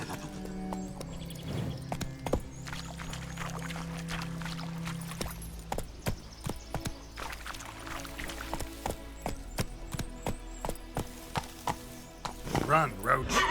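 The horse Roach gallops in The Witcher 3, with rhythmic hoofbeat clip-clops and an occasional whinny over game music and ambience, close and continuous, with a voice speaking briefly.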